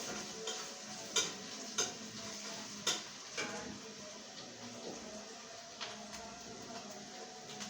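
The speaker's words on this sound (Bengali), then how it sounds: "তো এখন আবার নাড়াচাড়া করে নেব।" Turmeric, salt and spices for a fish roe curry are stirred in a pan, with faint sizzling under a handful of sharp spatula taps and scrapes, close and quiet.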